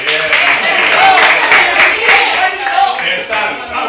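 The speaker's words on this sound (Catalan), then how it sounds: "Un aplaudiment a Salma." Clapping from workshop participants for a girl named Salma, a steady round of applause mixed with crowd voices and some talk, moderately loud throughout.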